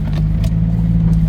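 A car towing two other cars, one of them a Toyota, with a close, loud low engine hum holding steady throughout.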